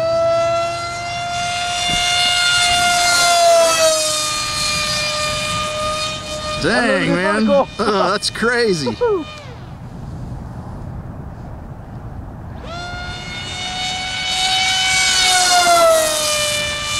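A loud, piercing motor whine from an RC foam board jet plane holds steady, drops away while someone talks briefly, then surges back at full scream.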